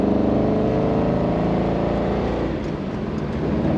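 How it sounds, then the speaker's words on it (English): A 1950 Ford Custom Convertible engine with a glass pack exhaust rumbles with a deep, throaty burble, loud and close, then eases off slightly as the revs drop. "Great sound, what you might call a glass pack sound, which is perfect for this car"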